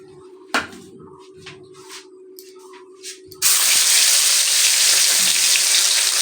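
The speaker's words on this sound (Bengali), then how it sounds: "এবারে আমি মাছটাকে ভাজবো।" Pabda fish coated in salt and turmeric dropped into hot oil in a pan: after a few quiet clinks and taps, a loud, steady hissing sizzle bursts in and continues.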